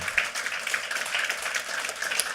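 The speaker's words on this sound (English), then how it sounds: "I would like us to applaud, to give them a round of applause" An audience at a conference session gives a round of applause, a soft, dense patter of many hands clapping steadily at a distance.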